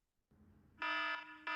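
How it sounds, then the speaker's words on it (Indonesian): A web-based alarm app built with HTML and JavaScript sounds a harsh electronic buzzer tone, one long loud blast followed by the start of another after a short gap, preceded by quiet background hum. "Ini sudah ada alarm dan sudah mengeluarkan suara yang tadi ya"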